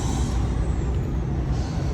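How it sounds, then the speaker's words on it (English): Steady, loud hiss of compressed air escaping from a broken-down truck's air pressure system after a diaphragm and cap popped off underneath, continuous throughout with no talking. "I could hear a lot of air escaping"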